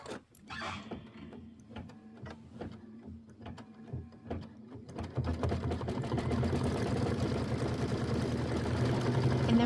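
A sewing machine stitches a mini quilt, with scattered ticks and clicks at first, then a steady fast whirring stitch that builds and runs continuously to the end.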